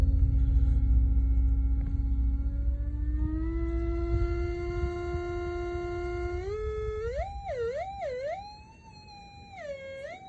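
A thick bass guitar note through a Fat Rat distortion pedal sustains and climbs in pitch, then wobbles through bending slides, loud and gritty with no talking.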